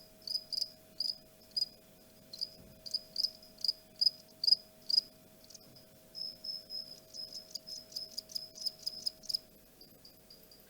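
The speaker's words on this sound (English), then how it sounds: "This is a Mediterranean field cricket." A Mediterranean field cricket calls for a mate with crisp, high chirps in rapid clustered bursts, close and clear over a quiet background with a steady faint hum.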